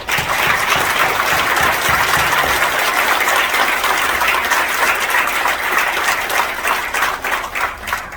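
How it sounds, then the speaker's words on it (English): Sustained applause from a large crowd, a dense, steady wash of clapping that stays loud throughout with no voices standing out. "let's give her a big round of applause"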